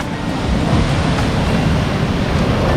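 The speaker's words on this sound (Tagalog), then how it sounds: "Lakas ng alon dito." Strong waves crashing and surging at Cabongaoan Beach, Pangasinan, a loud, continuous roar of surf with steady wind buffeting the microphone.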